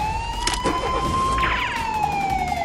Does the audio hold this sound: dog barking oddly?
no